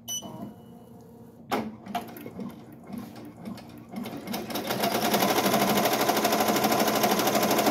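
An embroidery machine stitching an appliqué design in royal blue thread opens with sparse clicks and thumps, then breaks into a loud, fast, continuous rattling stitch that runs steadily to the end.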